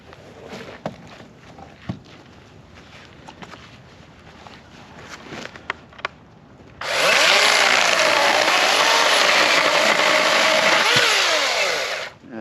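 A RIDGID electric chainsaw cuts through deadfall wood from a windstorm, starting after some handling and footstep noise and then whining loudly and steadily for about five seconds before it winds down.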